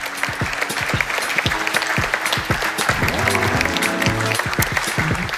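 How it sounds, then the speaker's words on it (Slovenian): An audience at a business awards event gives loud, dense applause, a steady clatter of many hands clapping close by, with a brief musical tone near the end. "Tudi to si zasluži aplavz."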